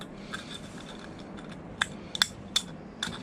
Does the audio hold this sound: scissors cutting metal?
yes